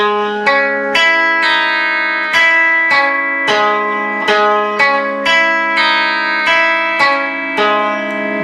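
An electric guitar picks through a chord pattern note by note, down to the open string, in a steady rhythm, bright and close with a touch of effect, no voices.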